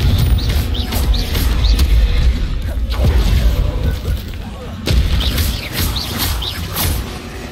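Confringo blasting-spell explosions burst repeatedly in Hogwarts Legacy combat, loud booming hits arriving every second or so among other spell effects, with a voice shouting spell names over them.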